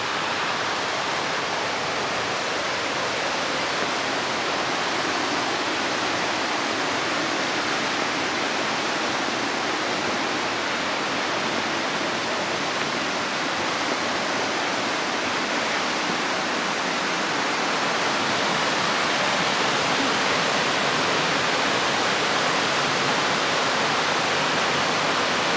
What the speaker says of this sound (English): Here's the viewpoint for the Little Missouri Falls.